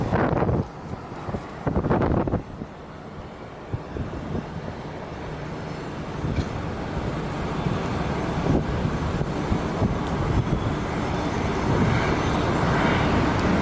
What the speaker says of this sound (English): And the one taxiing in now is coming in from Vegas.